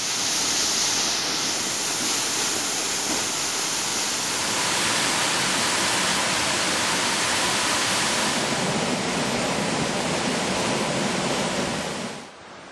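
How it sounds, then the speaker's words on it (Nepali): Waterfall in Ilam, Nepal, cascading down a cliff face, a steady dense roar that holds evenly throughout and cuts away abruptly near the end. "भिर पहराबाट सुस्केर हाल्दै हामफाल्दै बग्ने इलामका झरनाहरू"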